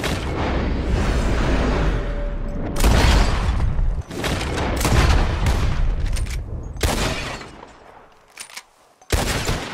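Repeated gunfire in Red Dead Redemption 2 as players shoot at bottles in a shooting contest, a dense run of loud overlapping shots with brief gaps and a final burst at the end.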